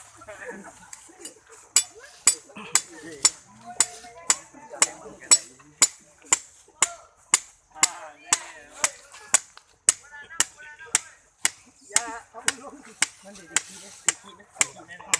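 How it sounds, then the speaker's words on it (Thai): A metal earth tester rod being hammered into the ground, a long run of sharp, evenly spaced metallic strikes about two per second, loud and close, with someone talking between blows. "ตอกลงไปประมาณ 50เซน"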